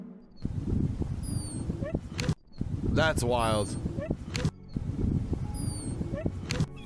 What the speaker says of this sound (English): this whimpering sounds much like a dog in distress.